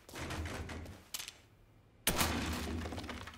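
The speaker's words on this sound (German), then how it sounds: "Wieso muss ich das jetzt kaputt schießen?" Gunfire and breaking wood as crates are shot apart in Mafia III, a few loud bursts of shots and shattering, with a brief lull before a heavier volley near the end.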